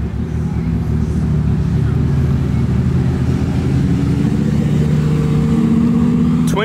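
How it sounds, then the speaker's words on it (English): A twin-turbo Audi R8 rolls by close, its engine a steady, loud low drone that builds slightly in pitch toward the end, with a voice faintly beneath. "We got a twin turbo Audi R8 rolling in."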